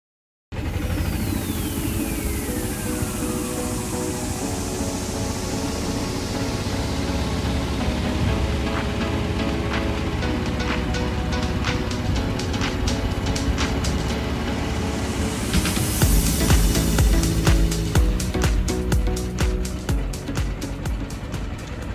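A car drives around a residential community in The Villages, Florida. A steady, even road and engine rumble plays throughout, with brighter rattling clicks joining in the later part.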